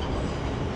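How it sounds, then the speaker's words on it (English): A Class 444 electric multiple unit pulls out of London Waterloo bound for Weymouth, giving a steady, close rolling rumble of train noise throughout. "a service to Weymouth, which I believe is that 444, is leaving"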